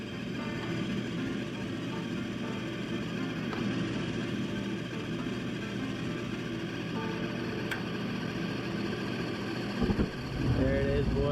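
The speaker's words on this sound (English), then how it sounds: "The furnace is up and running. Mind you, that induction motor sounds horrible." A furnace induction motor runs with a steady, rough mechanical hum and drone, constant and moderately close, with a voice speaking over it at times.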